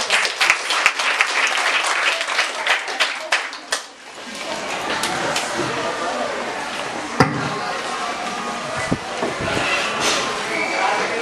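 A crowd applauds the first speaker, the affirmative team leader, at a school debate, with dense clapping that thins briefly around the midpoint and then swells again across the hall.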